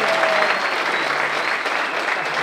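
Loud, dense applause from a crowd at a Portuguese folk dance performance, honoring the boys' troupe from Chino, a continuous roar of many clapping hands close by.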